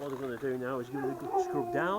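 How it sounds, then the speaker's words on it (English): A dog howls in long, wavering rising and falling cries close by, heard beneath someone talking during a boat paint-stripping job. "That's my dog."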